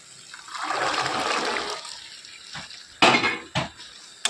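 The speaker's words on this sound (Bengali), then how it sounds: "এবার আমি এর মধ্যে দিয়ে দেবো সেদ্ধ করে রাখা ছোলা" Boiled chickpeas tumble into a pan of fried, oil-releasing spice paste with a brief hissing sizzle, followed by several sharp metallic clinks and scrapes of a spoon against the pot, no one talking.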